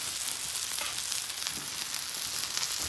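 Brioche bun toasting on a flat griddle gives a constant, even sizzle and crackle, close and steady with no pauses.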